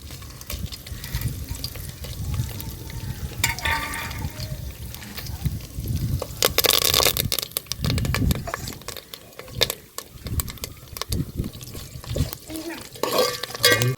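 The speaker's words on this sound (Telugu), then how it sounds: "ఎండుమిరపకాయలు కరివేపాకు వేసుకుందామండి" Dried red chillies and curry leaves crackle in a hot tempering for mango dal. A loud sizzle and stirring scrapes run throughout, with a few sharper bursts partway through.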